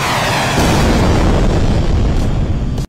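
A missile strikes a mountainside in a movie scene, producing a loud, sustained explosive roar with a deep rumbling low end that stays dense for nearly three seconds before cutting off abruptly.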